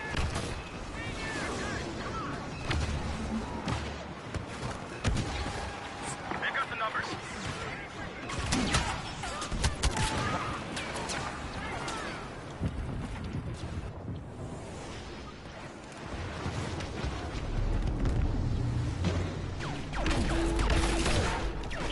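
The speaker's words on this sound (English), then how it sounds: "Using the building turret. Yeah, turbo laser." Rapid volleys of blasts from a turbo laser building turret in Star Wars Battlefront, sustained and dense amid a busy battle soundscape, with players' voices mixed underneath.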